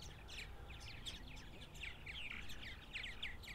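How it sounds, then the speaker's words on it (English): Purple martin nestlings chirp inside a nest gourd: faint, muffled, high-pitched peeps repeat in quick irregular bursts over a quiet outdoor background. "You can hear the chirping of the babies inside the nest"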